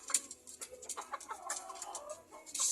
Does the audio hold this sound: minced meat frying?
no